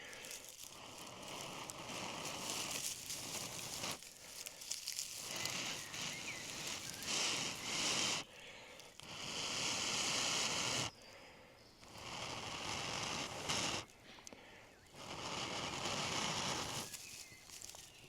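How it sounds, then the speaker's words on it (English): Steady, vigorous breaths blow onto a smouldering mushroom ember, coming in long rushing gusts with short pauses between, close and fairly loud. "Then I'm going to blow a little bit more vigorously."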